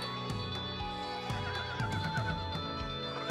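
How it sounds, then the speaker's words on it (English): Horses at a Wyoming dude ranch whinny and neigh in repeated bursts, with a soft clip-clop of hooves beneath, moderately close and faint. "And we've got big horses, little horses, fast horses, slow horses."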